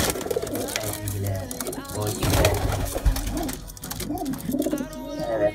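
High flyer pigeons coo repeatedly at close range, the soft throaty calls rolling over a steady background hum with some faint rustling.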